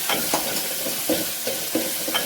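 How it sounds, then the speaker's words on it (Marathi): Tomato and curry leaves sauté in a hot pan for Marathi-style spicy toor dal, giving a steady close sizzle with light rhythmic scraping from stirring every half second or so. "आता कढीपत्ता पण असा छान परतून घ्यायचा आहे।"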